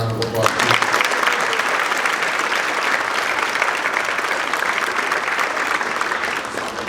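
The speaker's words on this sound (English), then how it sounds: "so we can give them a round of applause" An audience at a school band winter concert applauds two guest clarinet players, a dense, sustained wash of clapping that holds steady for several seconds after a brief voice at the start.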